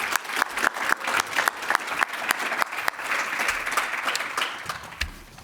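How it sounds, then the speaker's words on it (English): A university awards ceremony audience breaks into applause, opening with sharp distinct claps that merge into a dense, steady roar of hand clapping before thinning out near the end. "let's give them a quick round of applause at the beginning."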